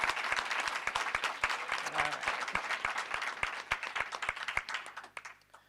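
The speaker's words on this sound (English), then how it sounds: "I just want to give a round of applause to y'all" Audience applause for students at a UC Berkeley lecture, a dense patter of many hands clapping steadily and fairly close, with a few sharp individual claps standing out before it thins and fades at the end.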